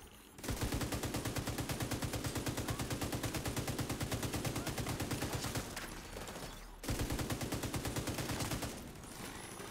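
Sustained rapid automatic gunfire in The Division 2 in hardcore mode, a loud close stream of shots in two long bursts with a brief pause between them.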